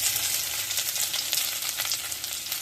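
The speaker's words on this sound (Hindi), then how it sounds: "तेल तो गर्म हो गया तो इसमें जीरा डाल देते, देख सकते हैं जीरा डाल दिए।" Ginger and cumin seeds sizzle in hot oil in a pan for a tempering, a steady crackling fry heard close and alone with small bursts of spatter.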